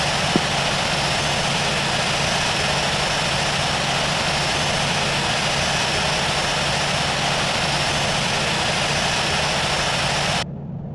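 Airliner jet engines idling and taxiing in the Infinite Flight simulator game, a steady loud whine and rumble that runs unbroken before cutting off abruptly near the end.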